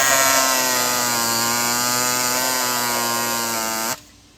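Power tool with a new blade running against a cast iron billet block, a loud steady high-pitched whine with a strong buzzing tone that holds for about four seconds, then cuts off abruptly.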